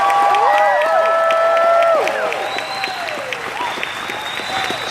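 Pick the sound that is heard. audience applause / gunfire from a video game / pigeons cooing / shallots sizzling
audience applause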